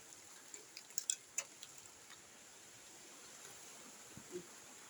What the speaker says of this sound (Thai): ฝนตก โอ้ยฝนตกเหรอพี่น้องเลยฝนตกแล้ว